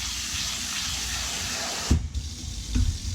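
Rinse water from washed rice pours out of a pot into a sink, a steady close hiss of running water that ends in a brief louder splash and gurgle as the draining finishes.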